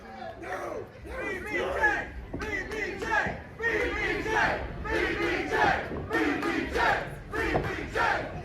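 Wrestling arena crowd at a SHINE Championship match roars in loud, sustained waves of cheering and chanting for Big Booty Judy, with surging shouts throughout and brief dips between bursts.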